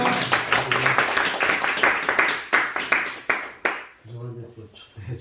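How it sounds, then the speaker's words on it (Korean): A church congregation claps rhythmically in unison for a few seconds, loud and close, before the clapping stops and a voice takes over. "할렐루야로 환영하며 박수로"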